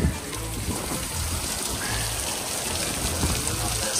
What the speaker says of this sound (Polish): Ulewa.